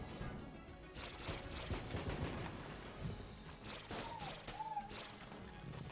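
Gunfire from the twin-stick shooter game Enter the Gungeon: a dense, continuous run of rapid small shots and impacts over busy game music, loud and steady the whole way through.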